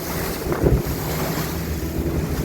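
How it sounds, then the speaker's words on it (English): A boat off Newfoundland pounds across choppy, cold sea waves, heard as a loud, continuous rush of water and wind buffeting the microphone, with a heavier thud midway through. "The smaller waves whap you up and down like the biggest pothole you ever went over."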